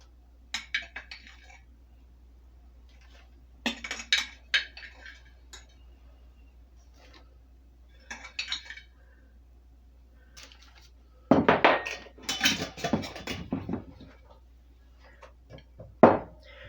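A tablespoon of dried onions is spooned into a glass soup-mix jar: scattered light clinks and dry rustles, close and quiet, with a denser burst of glassy clinking near the end.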